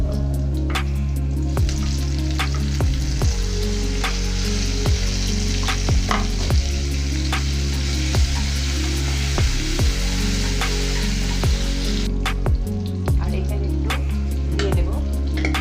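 Chopped tomatoes going into a hot frying pan bring a loud, continuous close sizzle, with sharp utensil clicks and scrapes as they are stirred.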